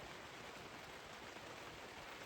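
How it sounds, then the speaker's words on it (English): Steady, soft hiss of rain falling, an even wash of pattering with no voices. "It's starting to rain."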